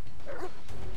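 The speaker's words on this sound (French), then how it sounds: "Ouh, il y a des chiens." Dogs bark in the South Park: The Fractured But Whole video game: one short bark with a whimpering edge, up close over steady background game noise.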